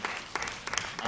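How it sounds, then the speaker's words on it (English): A short burst of audience applause for an actor's performance at a film festival Q&A, steady clapping from a crowd throughout. "Let's give a round of applause for Fiona's performance."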